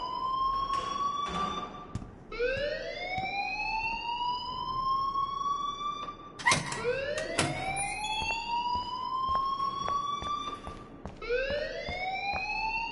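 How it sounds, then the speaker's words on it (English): An alarm in the video game Life Is Strange wails continuously, with repeated rising siren sweeps and sharp pulsing bursts, loud and steady, with no talk. "please turn off that alarm since that's your job"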